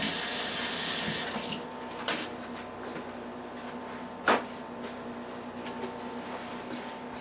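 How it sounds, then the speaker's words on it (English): Kitchen tap running while hands are washed: a close, steady hiss of water for about a second and a half, then it stops, followed by a few faint knocks and one sharper clack in a quiet room. "Let me wash my hands first."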